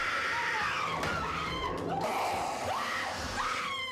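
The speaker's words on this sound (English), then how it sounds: "They scream at the first sign of trouble." People scream in alarm when they sense danger, several rising and falling shrieks over a constant noisy background.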